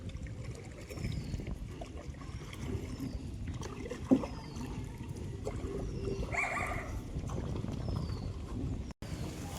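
Oars splash and dip through floodwater in a steady rhythm, with a constant wash of moving water and faint distant sounds around the boat.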